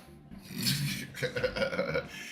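A single drawn-out, raspy burp lasting about two seconds, close and fairly loud, with a rough gurgling texture and no speech over it.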